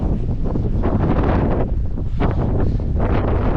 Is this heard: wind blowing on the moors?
yes